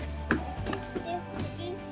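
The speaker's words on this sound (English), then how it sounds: "take those legs and thighs and separate them right along that joint" Grilled chicken legs and thighs, cooked under a brick, being cut apart at the joint, with a few soft knife chops and crunches close by, faint background hum underneath.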